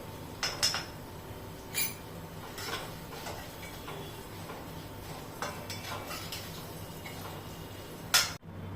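Samosa potato filling spices, including turmeric, being stirred in a pan, giving light scattered clinks and scrapes of a spoon against the metal at an uneven pace, with a louder knock near the end.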